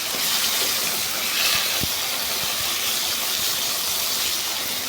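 Chopped tomatoes fry in a pan for a Kerala-style soybean roast, making a loud, continuous steamy sizzle with a few small pops and no talking.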